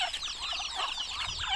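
Chickens kept in a pen with ducks cluck in quick, overlapping bursts, a busy chatter of several birds close by, heard on their own with no talk.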